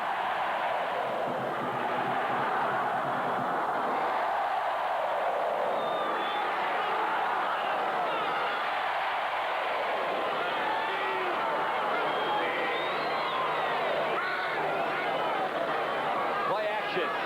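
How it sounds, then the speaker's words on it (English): Football crowd at Tampa Stadium during a 1981 NFL game between the San Diego Chargers and Tampa Bay Buccaneers, a dense, steady roar of massed voices swelling into chanting, with a commentator talking over it. "Listen to this crowd begin to chant here at Tampa Stadium."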